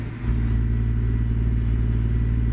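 A Ruda Classic XL truck engine in American Truck Simulator drones steadily at 1200 RPM while cruising at 77 miles an hour, a low, even hum with no change in pitch.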